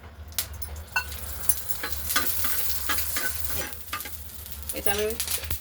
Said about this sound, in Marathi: थोडंसं तेल टाकून भाजायची मिरची